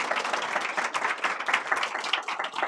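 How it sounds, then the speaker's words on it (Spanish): Audience applause at a history lecture, a lively, fairly close burst of many hands clapping that carries on steadily with small swells and no talking over it. "Les pido un fuerte aplauso."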